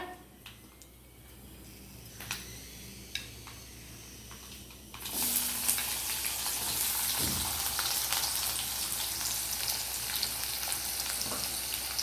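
Quiet stirring at first, then a loud, steady sizzle of onions frying in hot oil fills the rest, with occasional scraping.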